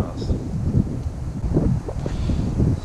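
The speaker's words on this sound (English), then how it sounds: "Super windy." Gusty wind buffeting the microphone in low rumbling bursts, steady and close throughout, at an urban lake while fishing for flathead.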